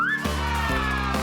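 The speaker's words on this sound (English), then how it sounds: "That's a monkey!" Cartoon monkey call in a children's animal-sound learning game: a single short rising squeal followed by buzzy, pulsing chattering tones, loud and close with no talking.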